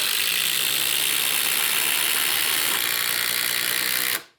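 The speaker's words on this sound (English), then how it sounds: "I'll count down and I'll try to pull the triggers at the same time" DeWalt DCF845 and DCF887 impact drivers running together produce a loud, continuous hammering rattle that holds steady for about four seconds and then cuts off abruptly, close up.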